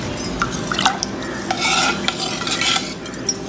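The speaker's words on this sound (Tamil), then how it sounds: "எல்லாம் கொஞ்சம் நல்லா மிக்ஸ் பண்ணி விட்டுருங்க" Rice, lentils, black pepper and salt are stirred together in a cooking pot for ven pongal, giving a steady scraping, clinking stir with a faint sizzle underneath. The sound is close and continuous, with no talking.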